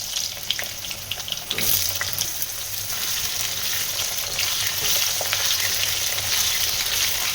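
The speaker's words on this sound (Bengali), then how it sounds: "আলুটাকে একটুখানি নুন আর হলুদ দিয়ে ফ্রাই করে নেব।" Potato pieces fry in hot oil with salt and turmeric after a tempering of cumin, dried chilli, bay leaf and whole spices, giving a loud, steady close-up sizzle with faint scraping stirs and no voices.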